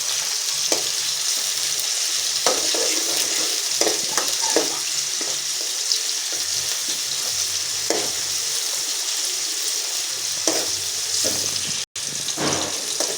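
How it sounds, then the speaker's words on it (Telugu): Onion and green chili fry in a pan for a tomato curry, a loud continuous sizzle with scattered crackles and stirring scrapes, close up and steady throughout, no talking. "ఆనియన్ మిర్చి ఫ్రై అయ్యేంత వరకు ఫ్రై చేసుకోవాలి."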